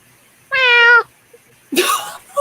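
A single clear meow from a cat nearby, followed by a brief rustle after a short pause.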